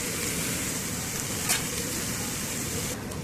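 Onions fry in a pan with a steady, moderately loud sizzle, a brief sharper hiss burst around the middle, continuing evenly to the end without any voices.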